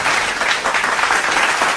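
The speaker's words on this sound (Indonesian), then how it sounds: "Boleh kita berikan aplaus sekali lagi, tepuk tangan yang meriah" Lively applause from an audience at a marketplace soft-launch ceremony following a Krakatau Steel arts performance, a loud, dense and continuous burst of many hands clapping with no talk.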